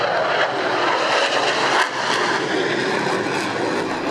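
Loud, continuous roar of jet and rotor noise from an F-15 fighter and an Apache helicopter flying an aerial display at an airshow, broad and steady with no talk.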